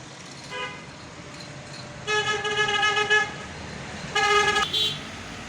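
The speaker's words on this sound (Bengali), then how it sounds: "দেখতে পাচ্ছেন একেবারে ব্যস্ত রাস্তা" Busy road traffic with repeated car horn blasts: one short toot, then two longer loud honks over a steady background of engine and road noise, with no voices.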